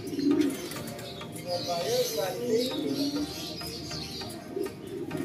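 Racing pigeons coo in low, repeated murmurs close by, with chirps and light background noise around them and a person speaking at times.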